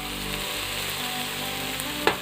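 Chopped onion sizzles steadily in a hot pan while a chicken dish cooks, giving a dense, even crackle throughout with a short clatter near the end.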